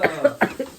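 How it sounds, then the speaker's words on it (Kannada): A person coughs in a quick run of short, close bursts, about five in under a second, with no talk around them. "ಕೆಮ್ಮು ಬರ್ತಾ ಇರ್ತದೆ, ತಡ್ಕೋಬೇಕು."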